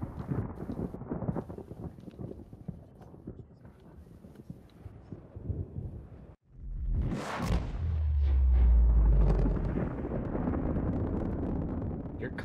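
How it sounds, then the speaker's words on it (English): A deep, rumbling explosion in the Subnautica video game swells after a sudden cut and rolls on as a sustained low roar, following earlier busy game sound. "Did you just cue the explosion again?"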